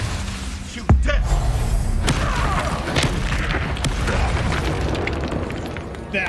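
A Confringo blasting spell explodes in the Hogwarts Legacy video game: a sudden loud boom lands just before the one-second mark, then a dense crackling rumble carries on steadily through the rest of the clip.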